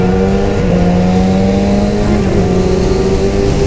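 Motorcycle engine accelerating hard on a winding mountain road through the Sierra de Urbasa, a loud, continuous rising engine drone with steady harmonic pitch climbing throughout, no talk.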